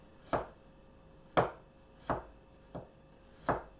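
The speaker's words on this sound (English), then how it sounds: "I start off with thinly slicing." Garlic being thinly sliced with a knife on a board, five sharp, quiet chops at an uneven, unhurried pace with silence in between.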